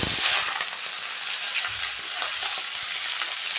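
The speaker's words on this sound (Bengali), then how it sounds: "এবার আমি যে সবজি কেটে রেখেছিলাম সবজিটা দিয়ে দিচ্ছি" Chopped vegetables hit hot oil seasoned with five-spice in a pan, giving a close, continuous sizzle and hiss with light stirring scrapes, no voices.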